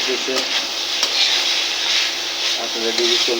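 Food sizzles loudly and steadily in a pan close by, a dense continuous hiss with occasional stirring scrapes. Faint voices murmur underneath.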